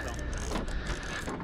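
A fishing reel clicks and ratchets steadily at close range while a dourado is reeled in on a Pantanal river, with a busy, dense mechanical chatter throughout the brief moment.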